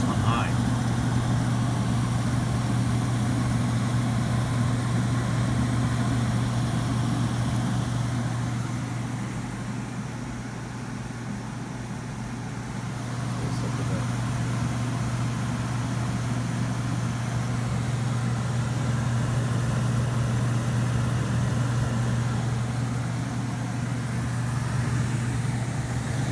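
A 1966 Fedders 20000 BTU window air conditioner runs on high, a steady close-up drone and fan whoosh with a strong low hum that holds level throughout, dipping slightly midway.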